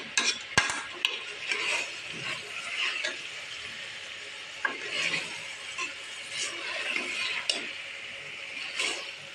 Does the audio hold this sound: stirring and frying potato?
yes